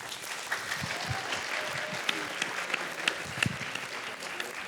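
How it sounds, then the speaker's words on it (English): An audience at a school presentation for International Women's Day applauds with steady, moderately dense clapping and a few louder individual claps, continuing evenly throughout. "Let's please give another round of applause to our wonderful panelists"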